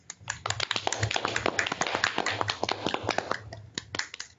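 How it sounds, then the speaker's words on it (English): A small group claps for a speaker in a classroom, a brisk patter of individual hand claps sustained for several seconds, fairly close. "Let's have a round of applause"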